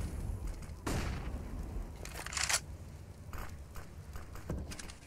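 Gunfire in Counter-Strike during a FaZe vs Fnatic match on Nuke, ESL Pro League: a few scattered bursts of shots over a steady game-noise background, with no talk.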